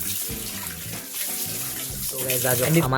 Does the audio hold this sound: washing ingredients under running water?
yes